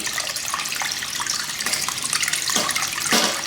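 Water gushes and splashes steadily as it flushes through a Yamaha R1 motorcycle's cooling system, washing out coolant-contaminated water; a continuous close, bright flow with a couple of stronger surges near the end.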